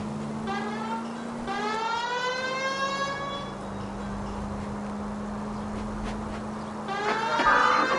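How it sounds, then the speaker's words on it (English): Police car siren from the L.A. Noire video game, a loud wailing tone that sweeps up and down in repeated cycles over a steady engine hum, with no talking. "The siren might keep people out of your way, Phelps."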